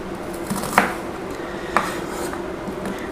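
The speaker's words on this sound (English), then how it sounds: "using the sharp knife slice it, spin it around, slice it the other way" A sharp knife slices food on a chopping board while making spaghetti bolognese, with two distinct knocks of the blade against the board about a second apart over quiet kitchen background.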